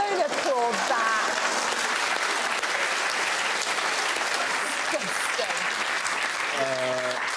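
Studio audience at a comedy courtroom panel show claps in a thick, continuous wash, with a voice talking over the applause early on and again near the end.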